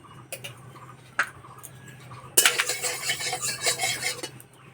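A spoon stirs and scrapes in a karai with a spoonful of ghee over a stove fire: a few sharp clinks at first, then a steady run of metallic scraping and clatter, fairly loud and close.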